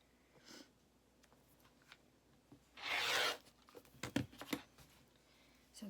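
A rotary blade slices a long double-layer fabric strip on a cutting mat in one quick, crisp zip, followed by a few soft taps and rustles of cloth being handled.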